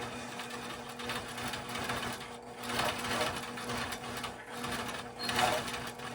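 A sewing machine runs steadily while free-motion quilting, its continuous mechanical whir rising and falling in speed, close and even, with no talking.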